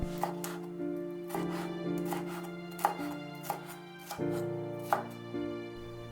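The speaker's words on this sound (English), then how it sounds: "Cut the peppers into chunks." A knife chops peppers into chunks on a cutting board, with a dozen or so crisp, close knocks at an uneven rhythm over a steady hum of background music; no one talks.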